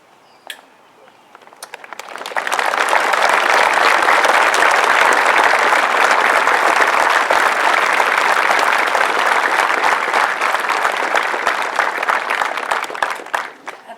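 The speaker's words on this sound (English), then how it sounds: "we all give you the well-deserved round of applause for your service to our country" Crowd applause at a school Rock Day ceremony honoring servicemen and veterans, swelling quickly after a quiet start into loud, sustained clapping for over ten seconds before dropping off abruptly near the end.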